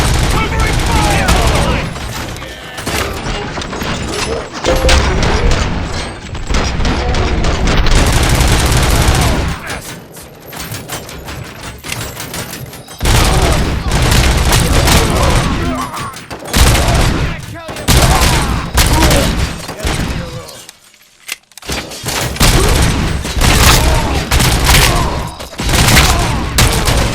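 Sustained gunfire in RoboCop Rogue City, dense rattling bursts of automatic fire and heavy booming shots, loud and nearly continuous with brief lulls, voices calling out between volleys.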